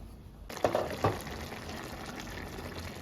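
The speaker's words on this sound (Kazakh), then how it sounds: "Әдемілеп қайнап жатыр." Water bubbles in a pot, a quiet, steady low simmer with a couple of brief clinks near the start, heard alone without talk.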